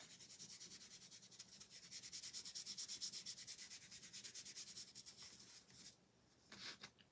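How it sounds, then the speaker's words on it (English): Burnt umber paint rubbed by hand onto a craft piece, heard as a steady, rhythmic scratchy rubbing, fairly quiet and close, with strokes repeating quickly before it trails off near the end. "I'm just going to rub this burnt umber on here"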